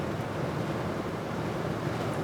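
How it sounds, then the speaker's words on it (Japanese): Wind blows steadily around a car parked overnight during a severe typhoon, a continuous broadband rushing roar at moderate level with no voices. "そうだね、音がするもんね、風がね。"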